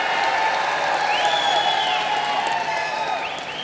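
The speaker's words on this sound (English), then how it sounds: "Keep those claps going for the megastar, Chiranjeevi sir in the house." An audience at the closing ceremony of the 53rd International Film Festival of India in Goa, 2022, breaks into loud, sustained applause and cheering, with a few rising whistles over the clapping.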